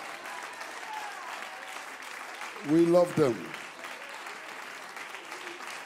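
A church congregation applauds in a steady, moderate patter under a preacher's repeated chanting, with a brief louder burst of voices in the middle.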